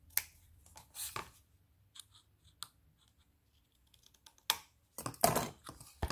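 Scissors trimming paper for a handmade advent calendar, several crisp snips and clicks spaced apart at close range, with quiet rustling between cuts.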